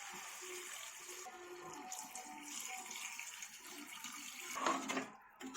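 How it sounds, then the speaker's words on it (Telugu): Water runs and splashes steadily into a pot of mutton and tomato curry, a continuous rushing pour that swells briefly near the end. "వాటర్ పోసుకోవాలి"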